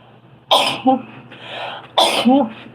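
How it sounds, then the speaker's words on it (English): Two loud, close sneezes about a second and a half apart, with a sharp breath drawn in between. "I gotta sneeze"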